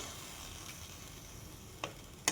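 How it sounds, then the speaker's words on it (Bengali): Lafa greens fry quietly in a pan, a faint steady sizzle with a couple of sharp clicks near the end. "একটু লাল লাল করে ভাজা হয়ে গেলে লাফা শাকটা দিয়ে দেবো।"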